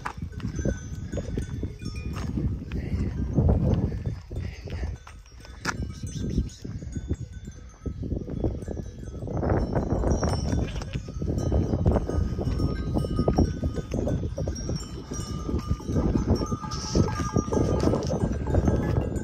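A mixed flock of sheep and young goats wearing bells, clanking irregularly near and far along a Greek island path, with scattered hoof steps and faint bleats throughout.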